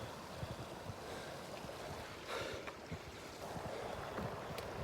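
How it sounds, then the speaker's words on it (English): Small mountain stream or river flowing, a steady broad wash of rushing water with some wind buffeting the microphone, fairly faint and continuous with no talking. "You hear the river or the little stream?"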